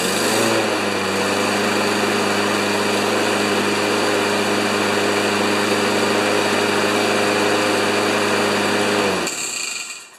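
A Craftsman Eco Plus 190cc lawn mower engine, on a mower that hit something hard, runs steadily and loudly at close range with an even drone for about nine seconds, then cuts out abruptly near the end.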